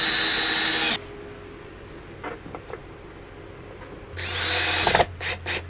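A power drill drives half-inch screws into wooden upper cabinets in a van, sounding in two loud whirring bursts, one at the start and another near the end, with brief clicks and quiet handling between.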